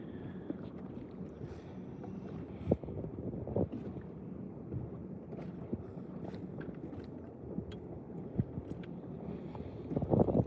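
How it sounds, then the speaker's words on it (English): Boat traffic on a lake during a weekend bass-fishing outing comes through as a low, distant engine rumble under gusts of wind buffeting the microphone, with a few small knocks and splashes. "You should expect some boat traffic."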